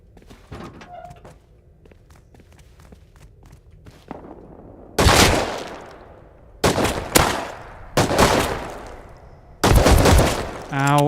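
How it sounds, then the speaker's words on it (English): Gunfire in Rust, sharp loud bursts of shots arriving in several clustered volleys after a quieter stretch of scattered clicks and footsteps, close and harsh. "Ow, he's shooting me through the cover"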